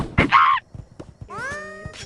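A person vocally imitates the sign sound effect from the VR game Yeeps: a short breathy burst, then a rising sung whistle-like tone that holds briefly, close to the mic with no other talk.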